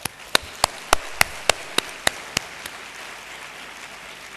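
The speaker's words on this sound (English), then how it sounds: "Can we give a big applause to your parents, please?" Applause from an audience at a graduation ceremony, heard as about a dozen distinct, sharp claps at a steady pace that thin out and fade after a few seconds, leaving a soft hiss of room noise.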